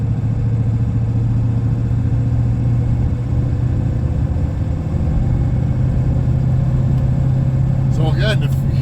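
A vintage Dodge pickup with a 12-valve Cummins diesel labours against a headwind while hauling a trailer, giving a loud, steady low drone with a deep, even rumble, and someone talks over the engine.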